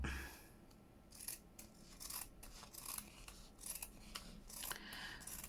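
Scissors cut through fabric for a junk journal embellishment, giving a run of quiet, close crisp snips and rasping slices with no talking.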